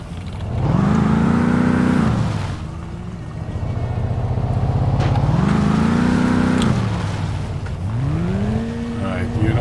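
A car in the My Summer Car driving game revs and shifts repeatedly, its engine note rising and falling in several loud surges, close and steady, with no voices over it.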